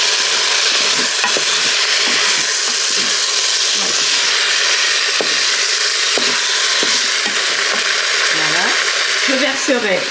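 Veal pieces browning with mushroom juice in a pan, giving a steady close frying sizzle and hiss throughout, with occasional stirring scrapes and clinks.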